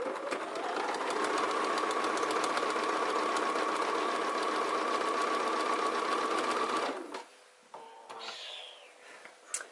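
A sewing machine stitches a 5/8 inch seam at steady speed, a close continuous whirring hum for about seven seconds before stopping, followed by quiet fabric handling and light rustles.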